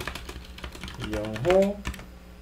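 Data is typed on a computer keyboard: a steady run of soft key clicks with a voice talking over them.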